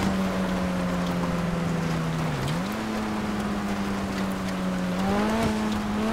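Engine of a car stuck in snow in GTA V, a steady droning hum that dips briefly in pitch and then climbs again, as if the engine strains without moving, loud and continuous with no voices.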